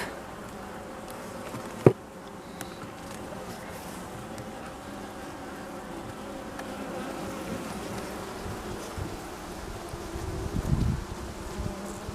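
A steady low hum of many honeybees buzzing close by on the comb of a weak colony, with a sharp knock near the start and some handling noise.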